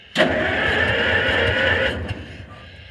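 An old Link-Belt crane engine cranks over on its first start, with one valve leaking. The starter churns loudly and steadily for about two seconds, then stops and the sound trails off.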